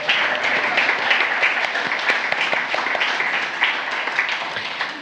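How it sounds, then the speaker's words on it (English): A lecture audience gives a round of applause at a talk on Santa Barbara's Mountain Drive counterculture, dense steady clapping from many hands throughout, close and fairly loud, fading slightly at the end. "could you please give a round of applause to Leslie?"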